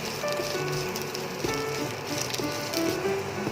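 Gongura (sorrel) leaves sautéing in a hot pan for pickle, a steady crackling sizzle with faint stirring clicks running throughout, moderately close and without any voices.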